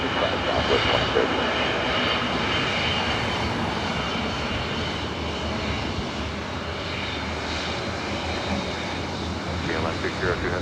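A jet airliner takes off from runway 24 right at LAX, its engines a loud, steady broadband roar that holds throughout, with a faint radio voice underneath.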